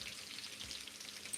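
French toast roll-ups fry in a frying pan, giving a steady close sizzle with fine crackling pops throughout and no voices.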